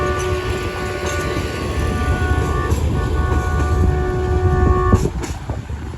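The Bolan Mail passenger train rolls through a railway station, a loud, steady rumble of wheels and wagons with a sustained horn-like tone running through most of it and a sharper clank near the end.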